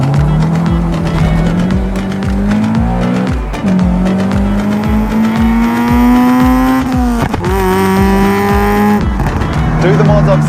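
Honda Accord Euro with a K24 four-cylinder engine revving up close and loud, a steady droning tone that climbs gradually, dips sharply near the middle, then holds high again.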